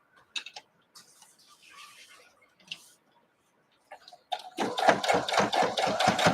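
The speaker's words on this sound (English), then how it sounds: "I'm top stitching it on the edge of this bias tape, so no raw edges." Sewing machine top stitching along the edge of bias tape, a fast steady rhythmic stitching run kicking in near the end after quiet handling sounds, close and fairly loud.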